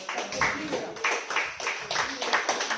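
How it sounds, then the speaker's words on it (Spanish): A church congregation claps hands in a steady rhythm, the sharp claps repeating about twice a second and loud and close over a fuller background of voices or music. "Dale palmas a Jesús."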